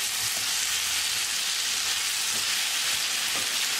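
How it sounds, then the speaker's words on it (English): Potatoes and fenugreek leaves sizzle and fry in a pan on medium heat while being stirred, a steady broad hiss with occasional soft scraping of the spoon. "Mix it well."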